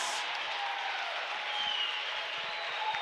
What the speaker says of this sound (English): as the crowd cheers him on